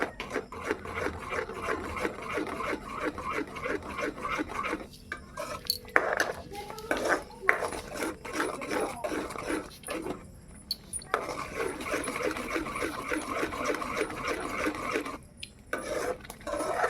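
Mango yogurt paste stirred in a bowl, with a steady scraping, clinking rhythm of a spoon against the dish running throughout, broken by a few short pauses, with some faint background voices.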